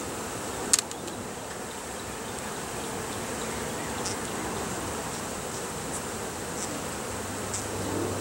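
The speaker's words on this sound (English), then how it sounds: "They kind of protest. They kind of buzz." Honey bees buzz from an opened hive, a steady low hum heard close and alone across the whole stretch, with a brief click near the start.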